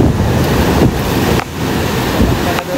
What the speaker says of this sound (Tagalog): Kung maririnig niyo po ang bubong namin, naaano na po ng hangin.